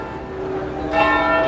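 Bells on a building chime at 11 a.m. in the Cartagena port area, a brief ringing tone that swells and sustains near the end, heard over faint street ambience.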